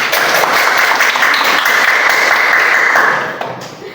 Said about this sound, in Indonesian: Diberikan aplaus dulu untuk teman-teman.